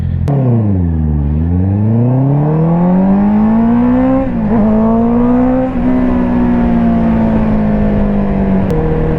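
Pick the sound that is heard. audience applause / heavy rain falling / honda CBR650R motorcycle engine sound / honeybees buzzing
honda CBR650R motorcycle engine sound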